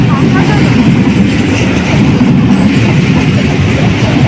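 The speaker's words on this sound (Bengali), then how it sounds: "ট্রেন চলে এসেছে" A train pulls into a station with a loud, continuous, close rumble of wheels and carriages that holds steady throughout without pause.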